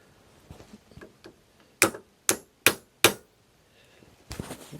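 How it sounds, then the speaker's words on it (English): A hammer tapping a U-joint into a driveshaft yoke set on a block of steel: a few faint light taps, then four sharp, evenly spaced metallic strikes close by, with no talk. "And then I'll just tap that in while holding this U-joint up."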